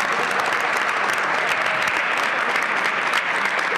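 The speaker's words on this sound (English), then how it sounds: "So round of applause for that." Steady, dense audience applause at a PowerCorpsBOS 2023 cohort graduation ceremony, sustained and even at full loudness throughout with no pauses or talk.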